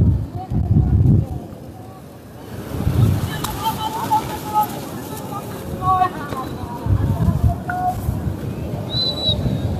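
Rough surf and gusty wind roll across Cox's Bazar beach on the Bay of Bengal after rain during a low-pressure system, with low rumbling surges of waves and buffeting wind under a man's continuous speech.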